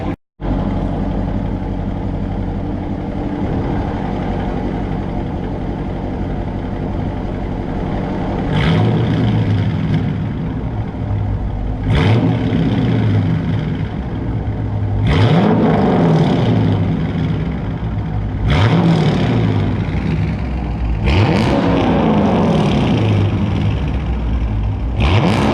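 A 2019 Dodge Charger R/T with the 5.7-litre V8 sits revving hard, steady loud engine drone broken by five sharp throttle blips that rise and fall against the rev limiter, no talk over it.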